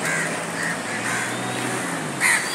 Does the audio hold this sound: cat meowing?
no